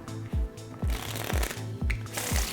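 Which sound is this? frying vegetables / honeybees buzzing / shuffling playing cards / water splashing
shuffling playing cards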